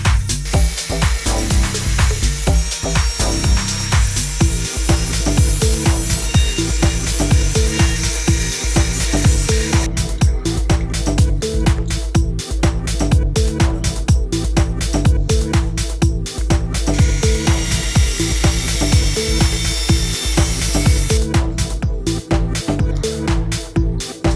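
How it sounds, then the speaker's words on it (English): A power tool grinds and shaves a metal headlight bulb bracket hold-down on a Volkswagen Jetta, enlarging its center hole; loud, steady, harsh grinding runs throughout with rapid rhythmic pulses and brief changes in pitch. "we're gonna be enlarging the hole in the center of the metal headlight bulb bracket hold down by shaving metal off until the LED goes through"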